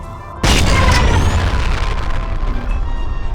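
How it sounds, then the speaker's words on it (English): A grenade shot and detonating in the shooter F.E.A.R. hits as a sudden loud boom, then rolls into a dense, sustained rumbling crash that slowly decays without fully fading. "We shot him and the grenade, dude."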